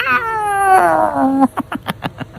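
A loud, drawn-out Angora cat meow sound effect glides downward in pitch and is followed by a quick run of short, evenly spaced pulses.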